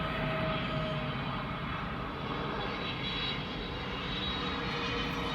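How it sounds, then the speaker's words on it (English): A steady, loud roar of an airplane passing close overhead as it lands at a nearby airport, a continuous broadband engine rumble that fills the whole stretch without pause. "Sorry for the airplane coming here, so it's landing here."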